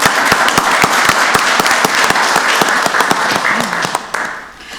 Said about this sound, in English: I want to give that team another round of applause as well